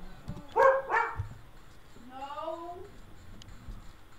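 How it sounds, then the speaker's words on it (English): A pet dog barks loudly and close by, two sharp clustered barks followed by a softer whining yelp, with voices around it. "The dog is loud."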